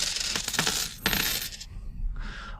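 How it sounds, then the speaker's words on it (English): Coins clink as spare change looted from pockets is tucked into a boot, a quick cluster of bright metallic jingles followed by a softer rattle near the end, with no voices. "Putting some coins in your boots, huh? Clink, clink."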